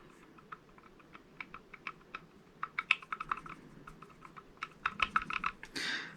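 A loose piston sleeve inside a Tokyo Marui VSR-10 airsoft sniper rifle gives quiet, irregular light clicks and small rattles, close but faint, over a soft background hiss.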